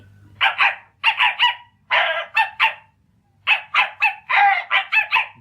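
A tiny little dog barks in quick yappy bursts, several sharp high barks in clusters separated by short pauses, close and loud with no speech over it.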